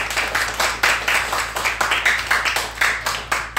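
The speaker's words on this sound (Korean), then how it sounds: "우리 박수로 우리 환영을 감사할까요?" Church congregation clapping together during a Sunday worship service, a steady run of claps that swells and fades in repeated bursts, fairly near and filling the room, with no talk over it.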